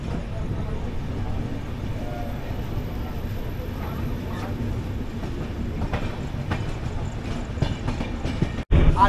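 The Puri-Howrah superfast express, a sleeper-class train, runs toward Cuttack with a steady rumbling roar and faint rhythmic rail clatter heard from on board, while a voice talks over it.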